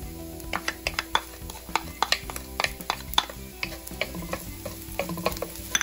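Ginger and garlic sauté in cooking oil in a pan, with a steady close sizzle broken by frequent sharp scrapes and taps of stirring, and no talking.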